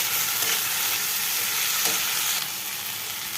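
Ginger, garlic and cumin paste fry in a pan for a Pakistani chicken curry, a steady, fairly loud sizzle with a couple of soft stirring scrapes and no voices.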